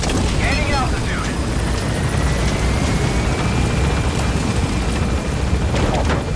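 A helicopter lifts off in Metal Gear Solid V: The Phantom Pain, its loud rotor and engine roar filling the scene steadily throughout, with faint rising whines and effects layered over the thrum.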